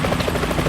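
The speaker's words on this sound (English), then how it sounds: "Is that a chopper I just heard?" A helicopter in the video game Metal Gear Solid gives a continuous, fast, throbbing rotor chop, loud and close, with no speech over it.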